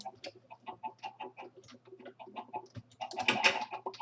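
Chickens clucking in the video game Minecraft, a string of short repeated clucks in irregular rhythm over a low steady hum, ending in a louder burst of bird noise.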